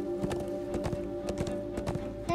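Horses clip-clop in the Minecraft Story Mode video game, a steady rhythm of hoofbeats over a sustained tonal game soundtrack, fairly quiet and without talk.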